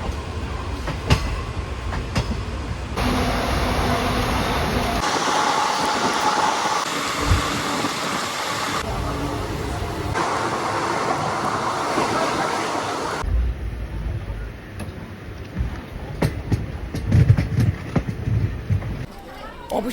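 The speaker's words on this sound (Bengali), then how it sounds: "কিছুক্ষণের মধ্যেই কিন্তু আমাদের ট্রেন ছেড়ে বেরিয়ে যাবে।" Passenger train 13187 running toward Tarapith, heard from on board as a steady rumbling roar with rhythmic clattering and knocks, shifting in level across several sections, with faint voices in the background.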